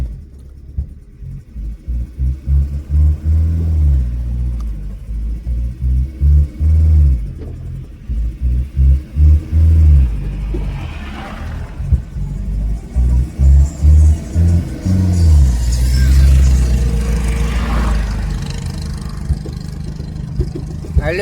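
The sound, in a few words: car engine accelerating as clutch is released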